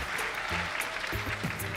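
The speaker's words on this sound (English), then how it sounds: "Give him a round of applause, everyone." Circus audience applause under a big top, a brief steady patter of clapping from a crowd, fairly faint, with a voice speaking over it.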